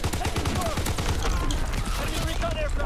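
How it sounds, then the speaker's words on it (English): Enemy artillery lands in Call of Duty WWII multiplayer, a dense run of rapid explosive bursts and gunfire crackling loudly with no gaps, while a voice talks over the barrage. "Incoming enemy artillery."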